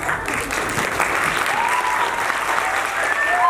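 An award show audience breaks into sustained, dense applause, a steady wash of many hands clapping throughout, with faint high whistle-like tones rising above it near the end.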